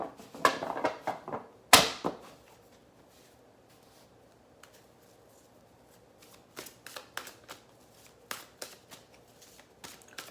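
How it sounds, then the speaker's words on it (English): A deck of oracle cards gets shuffled, with one sharp riffle burst near the start and then softer, scattered card flicks and taps close by, with no talking. "Let me shuffle these in."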